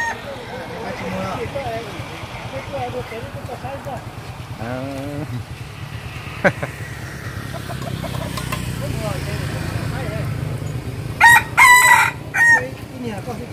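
Chickens cluck and a rooster crows outdoors, several sharp crows bursting out near the end, while people talk over a steady low background hum.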